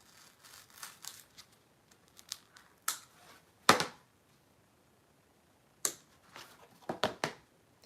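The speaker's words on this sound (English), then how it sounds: "I'm just going to take my scissors and punch a hole to get started" Scissors snipping and punching into paper for a craft cutout, heard up close as sparse, irregular crisp snips and crunches with quiet pauses between them and no talk.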